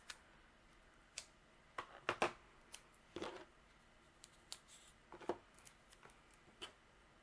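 Scissors snipping through a strip of foam tape during a papercraft project, quiet close-up clicks and short cuts in an irregular sequence, some clustered together, with no talking.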